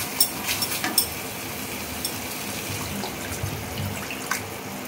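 Water poured into a pomfret fish curry (kalia) in the pan, a steady running splash that continues for several seconds with a few brief clinks at the start, no talking.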